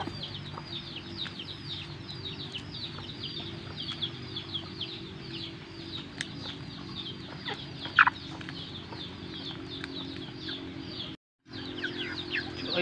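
Pet chickens fed banana as a snack cluck and call steadily at close range, with a soft background hum and occasional sharper squawks, no talking.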